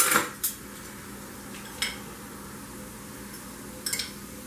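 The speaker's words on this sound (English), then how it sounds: "I'm going to give my onions a toss" Onions are tossed in a pan while pork carnitas cook nearby, giving a few sharp metallic clatters and scrapes. The clatters are spread apart over a soft, steady background hiss, with no talking.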